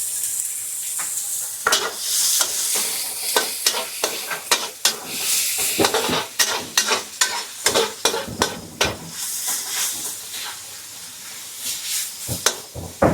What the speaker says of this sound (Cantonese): 而家放少少油，炸嗰啲葱頭仔